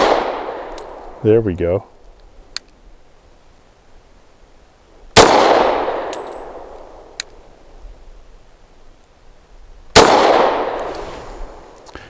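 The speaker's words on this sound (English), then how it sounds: "I tried just pulling through the double action, letting it surprise me instead of trying to stage it." Three loud, sharp reports from a Taurus TH45 pistol fired double action at a range, each roughly five seconds apart and trailing off in a long decay, with a brief spoken remark between the first and second shots.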